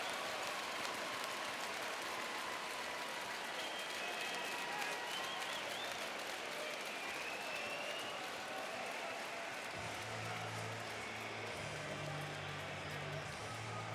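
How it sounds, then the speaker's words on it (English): A hockey crowd at the Spengler Cup in Davos cheers and applauds in a steady, broad wash of sustained clapping that fills the arena, with a low hum entering near the end. "That was the cheer you heard from the crowd here as they gave him credit."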